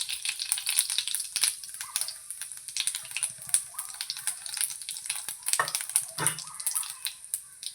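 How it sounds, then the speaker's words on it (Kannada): Mustard seeds splutter and pop in hot oil in a pan, a close, crackling sizzle of rapid irregular pops and snaps that continues throughout without talk. "ಇವಾಗ ಸ್ವಲ್ಪ ಸಾಸಿವೆ ಹಾಕಿ, ಆಮೇಲೆ ಚಟಪಟ ಅಂದಮೇಲೆ ಜೀರಿಗೆ ಹಾಕಿ"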